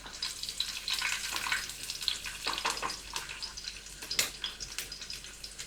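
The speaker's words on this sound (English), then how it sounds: "Now, as the oil has been heated up, we will put some garlic and stir the garlics" Garlic frying in hot oil while being stirred, giving a steady crackling sizzle with scraping strokes and occasional louder pops, close and alone with no talk.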